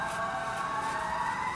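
Emergency vehicle sirens wailing outside, a faint steady tone heard through the walls of a quiet room.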